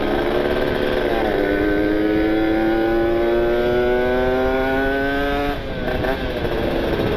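A small Honda Beat scooter engine hums and buzzes steadily up close, its pitch climbing gradually as it accelerates, then dipping briefly before resuming.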